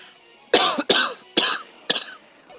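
Four sharp, wet coughs from one person in quick succession, close and loud, with short pauses between bursts and no talking.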